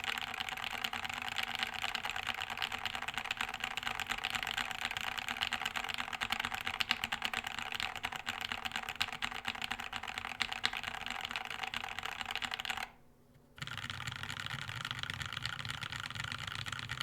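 Steady, continuous typing on a Cyberboard mechanical keyboard, with dense rapid keystrokes close up, broken by a brief pause near the end before the clatter resumes.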